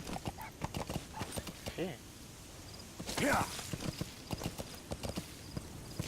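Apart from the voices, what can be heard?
horse hooves clip-clopping, Metal Gear Solid V video game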